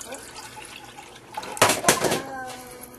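Two cups of liquid poured into a pot for vanilla sauce, a short burst of splashing that swells and then trails off into a brief gurgle.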